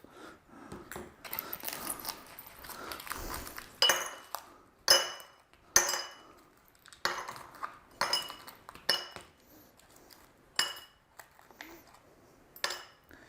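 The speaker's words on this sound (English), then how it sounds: "Got the ice cubes in there." Ice cubes dropped one after another into a cup for homemade iced coffee, a series of sharp glassy clinks and clatters in irregular bursts, close and fairly loud, with no talking.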